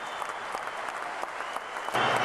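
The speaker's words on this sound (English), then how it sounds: "Nice applause, good sportsmanship." Spectators at the 1999 World Weightlifting Championships in Athens applaud after a lift, steady moderate clapping that swells louder in the final moments.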